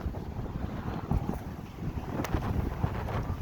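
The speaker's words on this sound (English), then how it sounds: "No rain in the forecast today, just wind." Strong wind gusts at the seashore at low tide, roaring and buffeting the microphone in a steady broadband rush with brief louder surges, no voices.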